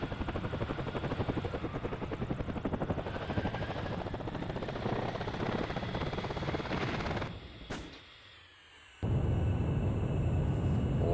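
The engine of a Ka-50 Black Shark helicopter in the DCS flight simulator game gives a continuous rotor chop and turbine drone that briefly fades almost to silence near the end, then returns at full strength.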